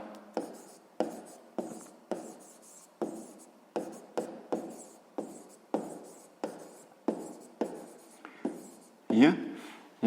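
Chalk or pen writing by hand during a math lesson, a series of short, crisp scratchy strokes repeating in quick bursts, close and clear, with a voice talking over parts of it.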